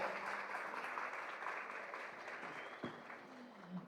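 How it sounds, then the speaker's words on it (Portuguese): Audience applause at the opening of a business summit, a steady, fairly faint wash of clapping across the whole stretch that thins slightly toward the end. "Uma salva de palmas para a Joelma Hospedal, pessoal."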